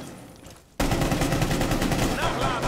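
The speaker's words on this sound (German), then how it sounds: "Kannst du mal ein bisschen durch die Wand schießen" Rapid automatic gunfire bursts out in Rainbow Six Siege as a player shoots through a wall, a loud, dense stream of shots that starts abruptly after a quiet moment and continues without pause.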